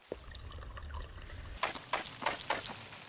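Watering crops in the video game Pumpkin Panic: a low steady trickle of water runs for about a second and a half, then four short bright splashy bursts follow in a quick, evenly spaced rhythm, with no talk.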